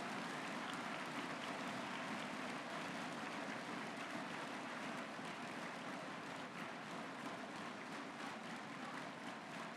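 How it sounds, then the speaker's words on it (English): An audience at the 2023 MATHCOUNTS National Competition Countdown Round applauds its top students with a faint but dense, continuous wash of clapping that holds steady throughout. "Please give a loud round of applause for our top 4 students in the 2023 National Countdown"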